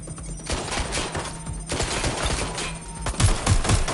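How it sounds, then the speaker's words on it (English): Gunfire in the Watch Dogs Legion video game: rapid bursts of automatic fire and scattered shots crackle loudly and close throughout, with no voices. "I'm taking fire!"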